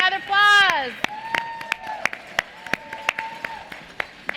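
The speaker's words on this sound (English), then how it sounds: "Let's hear another applause." Audience applause at an awards ceremony for a society leadership conference: scattered claps under a brief burst of cheering voices at the start, thinning into sparse individual claps.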